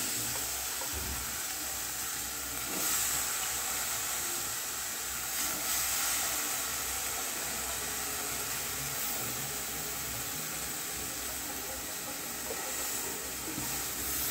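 Sliced capsicum (shimla mirchi) hits a hot pan in a steady, bright sizzle that hisses evenly throughout, close and fairly loud, with faint clattering now and then and no talk.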